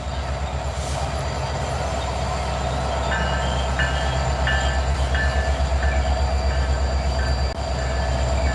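An intermodal freight train rolls down Horseshoe Curve in Pennsylvania, a loud steady rumble of wheels and cars with high wheel squeal ringing over it, continuous throughout.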